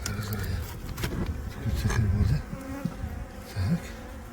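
Honeybees buzz close by at an open hive, a dense humming drone with individual bees swooping past, alongside some rustling and handling noises.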